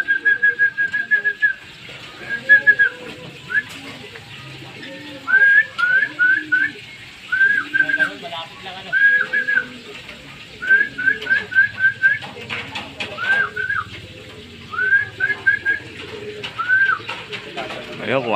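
Pigeons coo in rhythmic bursts alongside a repeated high whistling tone, loud and close, recurring every couple of seconds.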